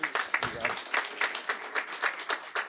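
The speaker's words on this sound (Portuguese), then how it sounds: "Uma salva de palmas para o deputado, por gentileza." Applause for a deputy at a security seminar in the Chamber of Deputies, a steady patter of many hands clapping in a room, moderately loud and continuous.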